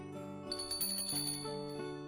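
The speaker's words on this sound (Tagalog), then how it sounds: "Kampanilya ito." Bell rung in repeated quick strikes, bright metallic rings layered over a steady tonal background, fairly soft and with no voices over it.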